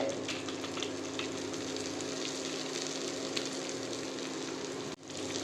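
Bitter gourd sautéing in a pan with onion, tomato, turmeric and sambar powder, giving a steady, even sizzle that holds for about five seconds before cutting off abruptly.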